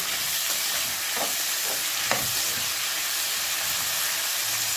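Steady loud sizzle of vegetables hitting hot oil with browned onions for semiya upma, with a few stirring scrapes over the constant frying hiss.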